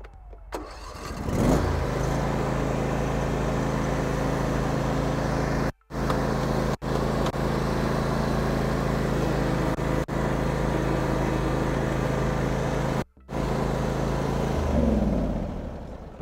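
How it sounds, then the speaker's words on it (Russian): A Husqvarna TC238TX garden tractor starting up and running while mowing grass, its engine droning loudly and steadily up close with two brief cut-outs, then easing down near the end. "Сейчас мы попробуем покосить небольшую траву сначала и посмотрим, как у нас наполнится травосборник."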